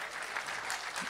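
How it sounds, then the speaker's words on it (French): Audience applause fills a public meeting hall, a steady wash of clapping from a crowd, moderately faint and continuous throughout. "On peut l'applaudir."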